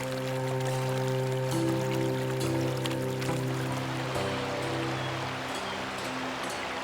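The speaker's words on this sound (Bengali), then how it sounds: "প্রচণ্ড বেগে পাহাড়ের উপর থেকে নদী আছড়ে পড়ছে। এই নদীর নাম পাচেং খোলা।" Pacheng Khola river near Sonada rushing down the mountainside just after rain: a steady, dense roar of fast water heard close, with a low droning hum running underneath and no voices.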